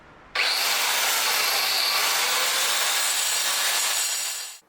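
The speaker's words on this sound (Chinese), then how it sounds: "云石机的声音是这样的" A handheld marble cutter spins up abruptly and runs as a loud, harsh, high-pitched whine, holding steady for about four seconds before winding down.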